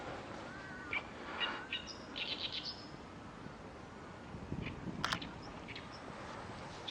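Scattered bird chirps and short calls ring out over a steady outdoor background hiss at a wetland garden in Namyangju, South Korea, a few near, others more distant.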